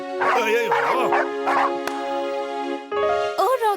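A cartoon puppy gives a run of high, bright yips and barks, close and lively, with a sustained tonal music bed underneath and a short pause before more yelps at the end.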